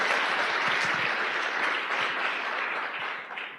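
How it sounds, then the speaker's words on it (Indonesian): An audience claps together at a seminar on networking business, a dense, sustained wash of applause that carries steadily before thinning slightly at the end, with no talking over it. "Aplaus buat Anda semuanya lah."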